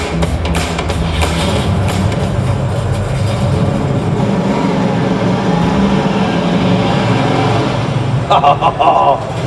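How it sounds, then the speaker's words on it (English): TVR sports car engine running and revving nearby, a loud rumbling, rising and falling growl with people talking over it. "The unmistakable sound of a TVR"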